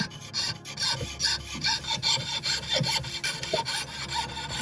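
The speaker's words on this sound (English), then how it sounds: "I'm using my little disc sander to kind of speed things up" A small disc sander grinds the edge of a slate gorget, a continuous abrasive rasping that pulses in short strokes as the stone is pressed and lifted against the disc, close and steady with no talking.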